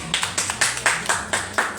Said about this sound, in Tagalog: palakpak po sa Panginoon sa buhay ng ating pastora